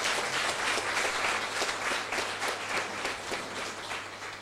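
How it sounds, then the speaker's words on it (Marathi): Audience at a prize-distribution ceremony for a children's art festival breaks into sustained, dense applause, many hands clapping steadily at a fairly even level throughout. "सगळ्यांनी प्रत्येकासाठी एकदा जोरदार टाळ्या वाजवा"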